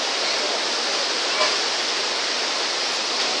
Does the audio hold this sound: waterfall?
yes